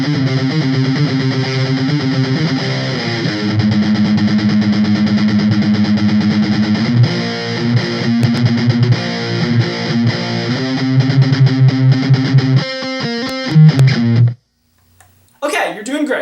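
Slow, loud distorted electric guitar working through the first verse of a song, continuous picked phrases and slides for about fourteen seconds, then a brief pause before a short burst of other sound.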